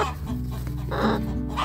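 A hen clucking at her nest in a backyard coop, a few low, close, soft clucks in quick succession with no talk.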